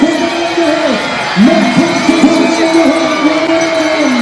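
A home crowd cheering at a cross-country skiing mixed relay in Goms, Switzerland, a steady roar of voices and whoops beneath continuous commentary.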